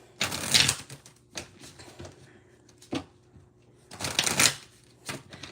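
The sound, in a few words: shuffling tarot cards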